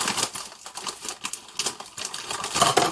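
Pretzel sticks and other dry snack mix pieces pour from a bag into a large container, giving a dense, continuous rattling clatter of small hard bits with irregular bursts throughout, close and moderately loud, with no talking.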